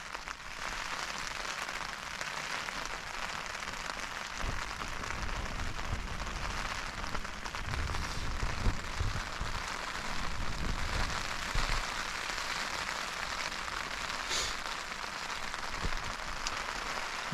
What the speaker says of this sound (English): Windy, raining, lovely weather to sleep.